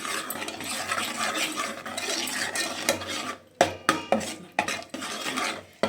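A spoon stirs and scrapes through fish sambar masala in a metal pot, first as a continuous grinding scrape, then as several distinct clinks and knocks against the pot near the end.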